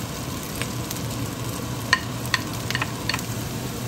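Carrots stirring in a pan while making vegetable lumpia, a steady sizzle with scattered light scraping clicks of a utensil, close and fairly even throughout.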